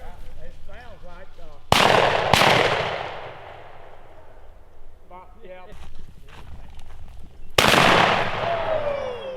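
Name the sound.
shotgun shot during a quail hunt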